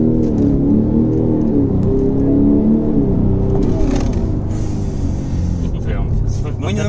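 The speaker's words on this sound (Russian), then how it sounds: "Спорт режим, ребят, газ в пол." A chipped BMW X5M 50d (E70) accelerates at full throttle in sport mode, its engine a loud, steady, close roar that builds as the SUV pulls hard, with a voice talking over it.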